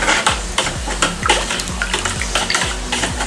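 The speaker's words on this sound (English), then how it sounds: "Alright, so we now have the salt into these buckets. Now I'm gonna go ahead and mix these up." Salt is stirred into water in buckets for a saltwater tank, giving repeated sloshing and swishing strokes with a steady, close rhythm.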